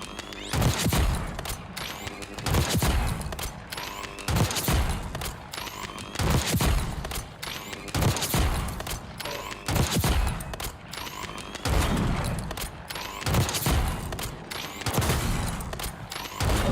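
Repeated gunfire in the video game Call of Duty Warzone, with loud close shots and short bursts recurring every second or two throughout, dense and punchy.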